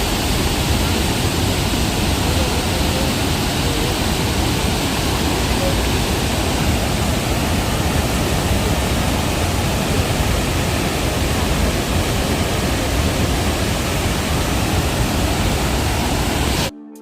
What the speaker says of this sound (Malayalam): ഇവിടുത്തെ വെള്ളച്ചാട്ടത്തിന്റെ ആ ഭാഗത്ത് എത്തിയിട്ടുണ്ട് കേട്ടോ